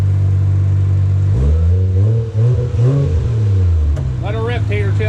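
A Mazda RX-7 FD with a new exhaust idles loudly up close, then revs up and down in several throaty pulls. A voice speaks briefly over the engine near the end.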